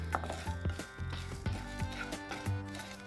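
Urad dal and other dals being dry-roasted and stirred in a pan for horse gram powder, a spoon scraping and tapping in irregular clicks and rattles, fairly quiet with no talk.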